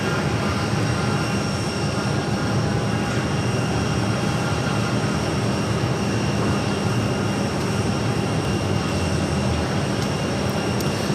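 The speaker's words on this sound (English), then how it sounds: "the E2 arriving on runway 8, coming in from Toronto" Porter Embraer E2 jet arriving from Toronto and landing on runway 8, a steady, loud broadband jet roar held the whole way through with no voices.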